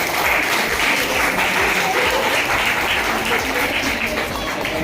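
An audience at a community event in Manvelpada, Virar East breaks into sustained applause, a dense, loud wash of many hands clapping steadily for the whole stretch without dropping off.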